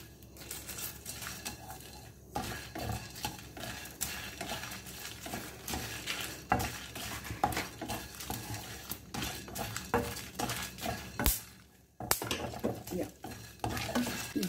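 Whole star anise, peppercorns, cloves and cinnamon sticks dry roasting in a pan over a low flame, with steady scraping and stirring, light rattling of spices against metal and faint sizzle, no talk.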